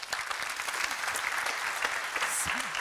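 A conference audience applauds a speaker at an AI panel session, steady dense clapping filling the room from start to finish at even loudness with no talk over it.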